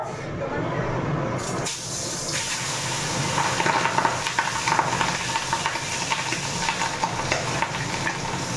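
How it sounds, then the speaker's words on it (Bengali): Pabda fish frying in a pan of oil make a loud, continuous sizzle and crackle close by, with a kitchen chimney fan roaring underneath and a short quieter patch near the start. "দিয়ে দেবো এই পাবদা মাছগুলি ভাজার জন্য"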